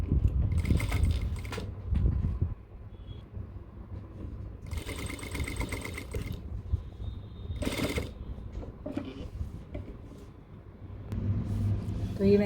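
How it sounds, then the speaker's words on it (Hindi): A sewing machine stitching stretchable cargo pants fabric, running in several loud whirring bursts separated by pauses, close by, with a person talking between runs. "तो ये मैंने सिलाई लगा ली है"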